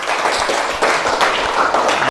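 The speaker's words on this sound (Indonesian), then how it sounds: "Mari kita berikan tepuk tangan dulu." Steady applause fills a classroom during a teacher-training lesson, a dense wash of hand claps sustained for about two seconds before cutting off abruptly, close and even in level.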